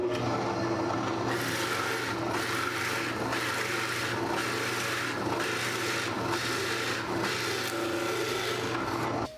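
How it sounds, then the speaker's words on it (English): A standing drill press bores 5/8 inch holes in cedar, its steady motor hum overlaid by a run of repeated rasping, grinding bursts as the bit cuts through the wood, close and loud. "So let's drill these out."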